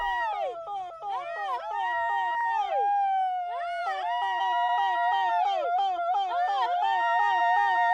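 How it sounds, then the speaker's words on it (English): Highland villagers give an extraordinary repetitive cry to communicate, a series of rising and falling wavering calls repeated again and again, loud and continuous, sounding almost siren-like. "village people who communicate by using an extraordinary repetitive cry"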